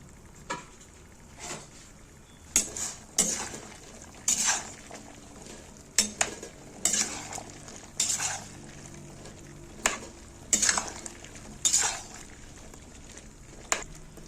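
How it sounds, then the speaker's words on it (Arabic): Okra being stirred in a pot of boiling water, with repeated sharp clinks and scrapes of a spoon against the pot at irregular intervals over a low steady bubbling hiss, close and clear. "كده بقى انا بقلب فيها"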